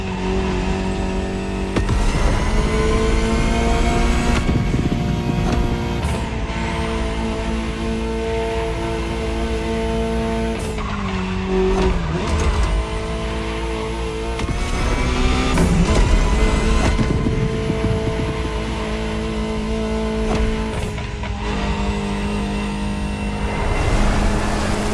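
A Ferrari supercar in The Crew Motorfest racing game, its engine droning loud and steady with repeated revving rises and falls, gear shifts and brief tire squeals throughout.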